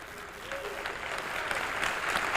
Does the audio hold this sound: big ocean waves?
no